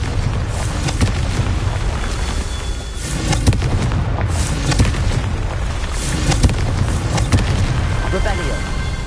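A Confringo fire spell blasting in Hogwarts Legacy, a dense, continuous roar of booming impacts and crackling rumble held loud throughout, with a voice speaking over it.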